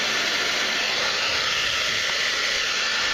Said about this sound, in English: I recommend doing this with a hair dryer, not a heat gun